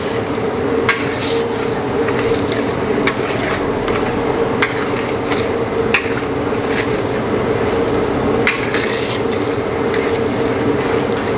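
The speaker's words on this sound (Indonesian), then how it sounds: "Kita aduk-aduk semua bumbu-bumbunya." Seasonings for mie goreng, including fish sauce, Worcestershire sauce and salty soy sauce, are stirred in a large pan for catering, with a steady sizzle broken by repeated sharp clacks of the utensil against the metal.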